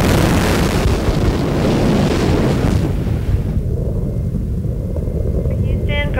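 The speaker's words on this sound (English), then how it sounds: "Discovery's twin solid rocket boosters" Space Shuttle Discovery lifts off on its twin solid rocket boosters, a loud, continuous roaring rumble that fills the whole clip and becomes slightly smoother toward the end, with faint radio tones near the finish.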